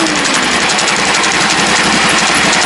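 A loud engine runs steadily after a carburetor rebuild, close and continuous with a fast, rough, knocking pulse and no pauses.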